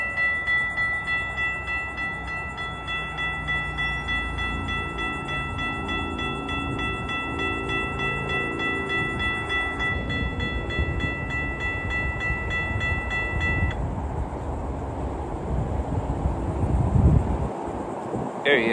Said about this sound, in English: Right now, we have our train.